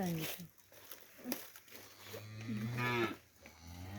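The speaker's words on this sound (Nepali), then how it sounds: "अब साथै अर्को गाई पनि छ।" Cow mooing at a farm: a low, drawn-out moo sounds close by and loud, with another brief lowing near the start and faint voices in the background.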